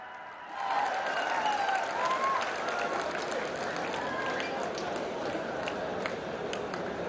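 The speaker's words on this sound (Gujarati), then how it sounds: "આવો આધુનિક ભારતની આધુનિક ટ્રેન્સને તાળીઓથી આવકારીએ" An audience applauds to welcome modern trains as they depart from a station. The clapping is a fairly faint, steady, even wash that rises quickly and holds for several seconds, heard at a distance.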